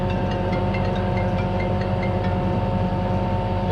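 An engine drones steadily and loudly nearby while pulling forward, a continuous low rumble with mechanical vibration and a faint rattling texture throughout.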